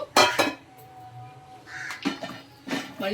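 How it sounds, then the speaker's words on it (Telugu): Rice being stirred in a cooking pot while making Hyderabadi chicken dum biryani: a couple of loud metallic scrapes and clinks of a spoon against the pot, then quieter stirring knocks, close by. "ఒక్కసారి కలుపుకోండి"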